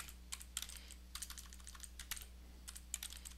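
Computer keyboard typing, a quick irregular series of soft clicks and taps close by over a low steady hum, quiet, with no voices.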